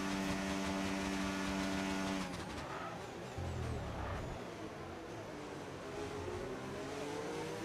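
An F1 25 video game race car pulls into the pits, with a high engine whine that cuts off and drops into a lower rumble and tyre noise, loud and continuous with no talk over it.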